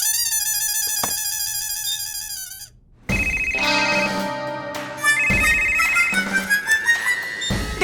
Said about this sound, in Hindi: मैं अभी जाकर इंस्पेक्टर ढिशक्याओं भाई को फोन लगाती हूँ।